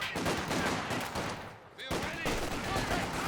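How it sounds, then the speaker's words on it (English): In Company of Heroes 2, an MG42 machine gun fires loud rapid bursts with dense rattling, broken by a brief lull before the firing resumes. "MG42 setting up. Couple small bursts here and there."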